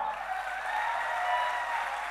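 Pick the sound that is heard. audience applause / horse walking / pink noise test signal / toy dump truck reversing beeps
audience applause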